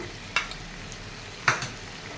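Chicken frying in a pan with onions and ginger garlic paste: a faint, steady sizzle underneath, broken by two short scraping stirs about a second apart.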